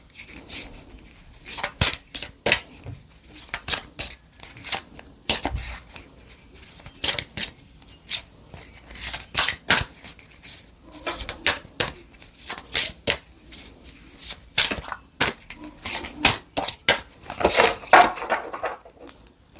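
A deck of tarot cards being shuffled by hand, close up, in repeated bursts of crisp riffling and slapping with short pauses between them, quiet and free of talk.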